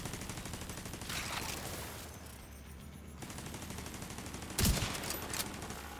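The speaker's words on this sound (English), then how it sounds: "I put my turret right on top here. I can shoot both sides." Turret gunfire in a video game, dense rapid bursts of shots forming a continuous loud fusillade, with one sharper, heavier blast near the end.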